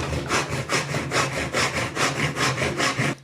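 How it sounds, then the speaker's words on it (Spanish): A rasp files the inside of a hand-carved wooden cup in steady, rhythmic back-and-forth strokes, about seven or eight coarse scraping passes, close and clear with no talk. "Aprovechamos para darle una pasada con escofina."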